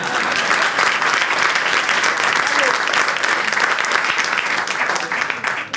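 Audience applause filling a studio on a French political talk show, steady dense clapping throughout at close range, tapering slightly at the end.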